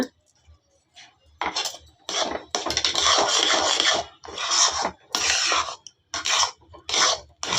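A spoon scrapes and stirs a rice barfi mixture in ghee in a pan, giving close, rasping strokes in an uneven rhythm with short gaps between them.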